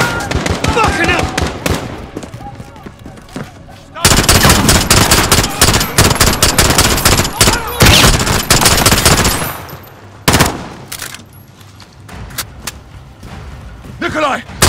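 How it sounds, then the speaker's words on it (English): Rapid automatic gunfire in Call of Duty Modern Warfare, loud close bursts and sustained volleys with sharp single shots between, a pause and then renewed firing, with voices talking over the action. "How? The gunshots, of course."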